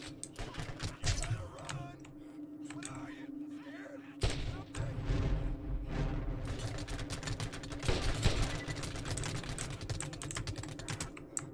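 Rapid bursts of Borderlands video game gunfire crackle repeatedly alongside clicking keyboard keys, with several louder volleys partway through.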